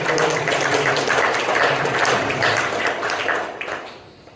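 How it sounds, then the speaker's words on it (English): Sustained audience applause at a 100th birthday celebration, a dense wash of many hands clapping that stays steady before thinning and fading out toward the end. "I think that deserves a clap, folks."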